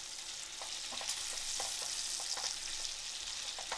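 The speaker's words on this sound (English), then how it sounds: "Yeah, the frying is loud." Pasta amatriciana frying close up in a pan, a dense steady sizzle with scattered pops and crackles throughout, fairly quiet overall and with no talking.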